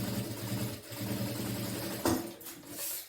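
Sewing machine running a safety seam on a large backpack panel, a close, continuous low motor hum with a short clack partway through, all over about three seconds.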